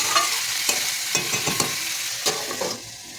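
A pan of Malabar spinach dish with salt and turmeric being stirred: a steady frying hiss with quick scraping strokes of a spoon, several close together, then a brief pause.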